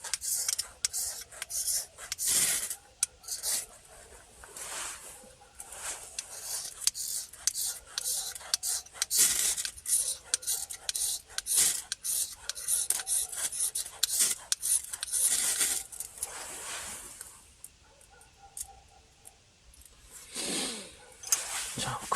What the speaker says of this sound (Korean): 큰 힘 안 주고 슥슥 긁으면서 가루 긁고 또 불꽃이 튀겨